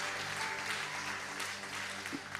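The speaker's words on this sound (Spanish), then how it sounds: "Denle un aplauso al Señor." A church congregation applauds during a service, a dense, steady wash of many hands clapping together, heard from within the crowd at moderate loudness.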